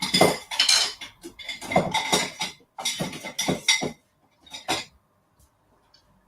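A metal whisk rattles and scrapes in a pan while making custard cream blondies, in bursts of busy clinking strokes that stop and start, fading to a couple of short final taps.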